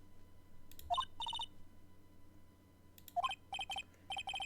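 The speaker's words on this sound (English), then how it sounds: "they made a unique rendition of the song to be the ringtone" In the Phoenix Wright: Ace Attorney video game, a phone ringtone plays a rendition of a song as short electronic melodic bursts in two phrases separated by a pause, quiet over a faint hum.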